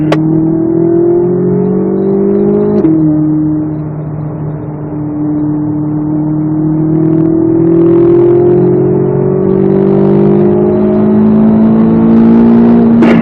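Corvette Z06 lapping a race track, its engine droning loud and close from inside the car with steady rising and falling pitch through a corner, one brief shift-like break early on.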